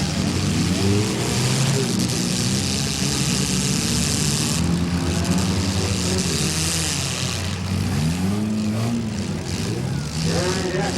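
Loud, continuous demolition derby car engines roar and rev throughout at a county fair, with a commentator talking over the noise and a crowd-like wash in the background.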